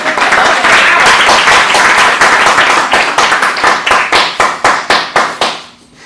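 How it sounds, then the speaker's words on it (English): A graduation audience applauds loudly, dense clapping that thins into separate spaced claps and fades out at the end, with a voice faintly underneath. "Round of applause for Amber, everybody."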